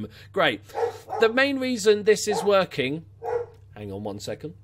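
A dog barks repeatedly in short bursts as someone arrives home at a house, heard close by and mixed in with a person talking over the barking.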